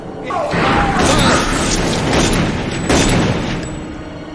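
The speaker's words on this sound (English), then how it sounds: "firing a gun completely blind" Gunfire in a dark scene from The X-Files episode 'Alone', with loud booming shots that swell into a dense, rumbling roar lasting several seconds, and voices mixed in.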